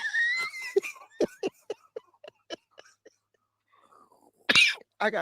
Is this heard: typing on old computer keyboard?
no